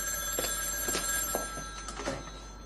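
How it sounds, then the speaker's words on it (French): A telephone rings indoors in short repeated trills with a steady background hum. Nobody speaks. "Tiens, le téléphone."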